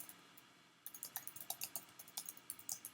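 Quiet hum gives way to a run of quick, crisp keystrokes on a computer keyboard, close and irregular, with no talk.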